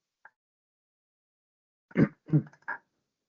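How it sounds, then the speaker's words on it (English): A few rough, close coughs in quick succession after a faint click, with silence around them, during a council area committee meeting. "sorry, coughing away there"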